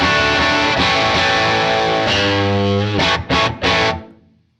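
Loud, crunchy chords from a guitar through a Fender tube amp turned up further with the reverb eased down, a sustained strum followed by three quick choppy stabs, then a short fading tail.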